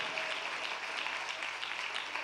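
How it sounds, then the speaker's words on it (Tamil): A congregation at a Sunday church service claps together in a sustained, fairly faint patter of many hands, steady throughout with slight surges and no talking over it. "நல்லா கைத்தட்டுங்க பார்க்கலாம்"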